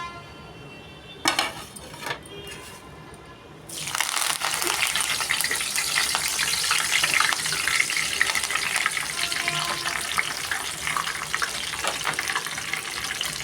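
Curry leaves hit hot oil for a corn flakes mixture: after a few quieter seconds with brief clatters, a sudden loud crackling sizzle bursts up and keeps going strongly to the end.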